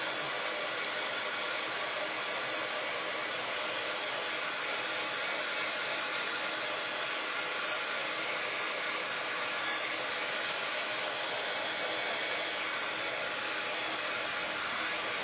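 A hair dryer blowing steadily and loudly to dry a DIY bunny-inside-egg craft, a continuous close-up whoosh with no pauses.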